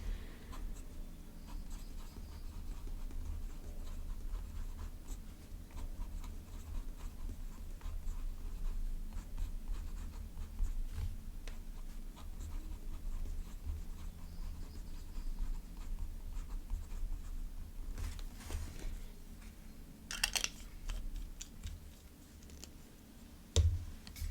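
A stub-nib fountain pen scratches softly across paper in close, continuous strokes of hand lettering, with a few sharper ticks near the end.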